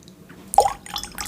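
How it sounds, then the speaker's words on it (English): A teaspoon of water poured into a glass of 15-year-old whisky gives a single short splash and drip, close and fairly quiet, followed by faint clinking handling noises. "So I'm going to put a teaspoon of water in."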